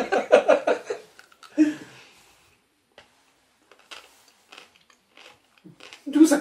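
Crunchy candy from a Candysan challenge pack being chewed close to the mouth, several quick loud crunching bites at the start and end with quieter chewing between, laughter and French talk nearby.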